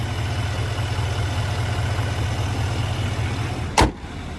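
A 2025 GMC Sierra 2500HD AT4 with a 6.6-liter Duramax turbo diesel V8 idles with a steady, low, rumbling throb heard close up, briefly broken by a short sharp noise near the end.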